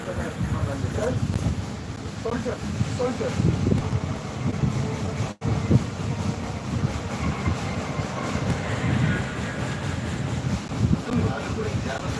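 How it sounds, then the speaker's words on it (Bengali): A train runs steadily with continuous rumbling rail noise and some wind buffeting on the microphone, a dense low roar that continues for the whole stretch with one brief dropout partway through. "এই ট্রেনটা সকাল থেকে চালাচ্ছে"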